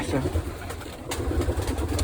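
Pigeons coo low and steadily in a loft during egg-sitting and hatching season, a soft continuous murmur with a person talking over it.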